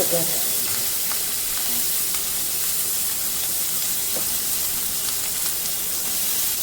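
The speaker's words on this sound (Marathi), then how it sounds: "भाज्या छान परतून झालेल्या आहेत।" Garlic, chili, onion and vegetables fry in butter in a pan for a paneer chilli dish, giving a steady, dense sizzle throughout with occasional stirring clinks and no voice.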